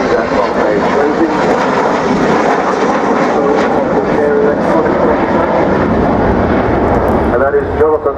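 An Avro Vulcan XH558 bomber flies over the Farnborough airshow, its engines giving a loud, steady, unbroken roar throughout with no voices heard.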